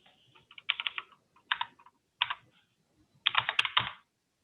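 Keys clatter on a computer keyboard in four quick bursts of close typing separated by brief pauses, with no one speaking.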